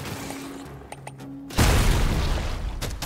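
An explosion in the Deep Rock Galactic: Survivor video game comes after a quieter stretch with a few small clicks, then erupts as a loud, sustained rumbling blast that fills the rest of the moment.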